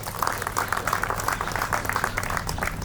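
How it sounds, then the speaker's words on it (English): Steady applause from an event audience for the host at a literary conversation gathering in Jaipur, a continuous wash of clapping that holds at an even level throughout. "Please give him a big round of applause."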